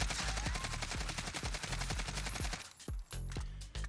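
An AK47 with a monolithic suppressor fires in a video game, a rapid steady stream of muffled automatic shots that pauses briefly near the end, then resumes with a few more rounds, with no talk.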